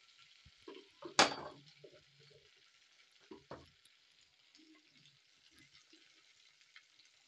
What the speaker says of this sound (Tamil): நம்ம ஓகே இப்படி பொரிச்சு எடுத்தால் போதும்.